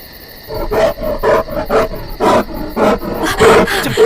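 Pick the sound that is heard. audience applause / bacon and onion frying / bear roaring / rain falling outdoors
bear roaring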